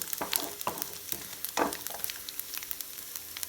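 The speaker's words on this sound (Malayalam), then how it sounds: "ലോ ഫ്ലെയിമിൽ ഇട്ടിട്ട് ഇതൊന്ന് മൂപ്പിച്ചെടുക്കാം." Grated coconut fries in oil over a low flame. A soft crackling sizzle is broken by several sharp scraping stir strokes close by.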